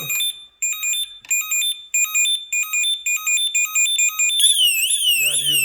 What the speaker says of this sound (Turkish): alarm çalmaya başlar. Alarm sesi de bayağı yüksektir.